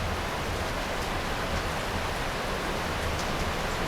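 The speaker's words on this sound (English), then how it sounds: "The rain is pouring down." Heavy rain pours down during a thunderstorm in a dense, constant broadband roar that stays loud and unbroken, with no distinct thunderclaps or voices.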